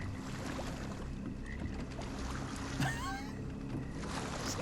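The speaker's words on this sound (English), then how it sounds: "Just gonna take our time with the paddling here." A boat is paddled through water in the video game Sherlock Holmes The Awakened, with soft sloshing paddle strokes over a low ambient drone and wind, quiet throughout.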